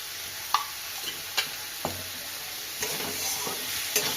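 Fenugreek greens and potatoes stirred in a pan with a drizzle of raw oil, a steady faint sizzle with scattered scraping clicks of the spoon against the pan, close and alone.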